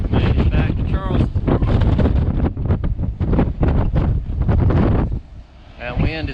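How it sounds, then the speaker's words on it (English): Cold wind blows across the harbor at Charleston, buffeting the microphone with a loud, continuous low rumble and gusts while voices are heard close by throughout. "That wind is cold now."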